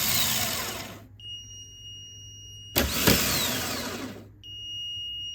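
A used car starter motor spins on a test bench in two bursts of loud, broadband whirring with a grinding buzz, each ending abruptly, separated by a faint hum; a brief clunk marks the start of the second run.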